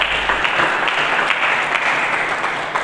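Congregation applauding during a church sermon, a thick, steady wash of clapping from a large crowd that holds evenly from start to finish.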